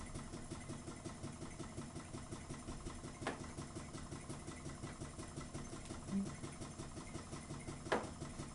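Greatly improved Ringbom Stirling engine running steadily, giving a soft, even, rhythmic pumping beat at close range, with a couple of brief knocks standing out.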